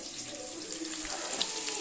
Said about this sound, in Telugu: చిక్కుడుకాయ బీన్స్ని నీళ్లు పోసుకొని ఉప్పు వేసుకొని ఇలా ఉడికించుకోవాలి.